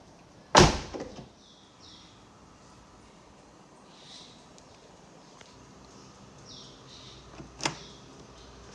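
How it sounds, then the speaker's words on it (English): The fuel door of a 2008 Mercedes-Benz SLK200 1.8 convertible snaps shut with a sharp, near click. Faint small sounds follow, then a second, softer click near the end. "fuel door."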